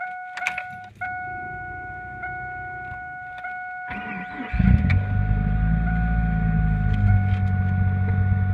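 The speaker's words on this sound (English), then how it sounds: "just an everyday cold start." A high-mileage 1999 Chevrolet Cavalier with the 2.2 engine cold-starts at about -12°C. Steady dashboard chime tones come first, then the engine cranks and catches into a loud, rough, continuous idle close by.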